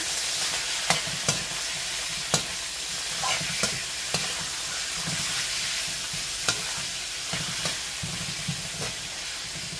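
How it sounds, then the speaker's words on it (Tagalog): Chicken breast stirred and frying in a pan for chicken pancit gisado with onion, a steady close sizzle broken by repeated sharp scrapes and clanks of the utensil against the pan. "ilagay na natin ang chicken breast. Halo-haloin."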